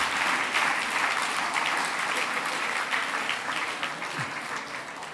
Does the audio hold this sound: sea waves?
no